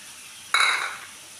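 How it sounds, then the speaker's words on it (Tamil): Boiled, peeled potatoes drop into a butter masala for a dhaba-style potato curry, making one sudden close splat and sizzle that fades over about half a second, alone without talk. "இதிலையே நான் அவிச்சு உரிச்சு வச்சுருக்க உருளைக்கிழங்கு சேர்த்துக்கலாம்."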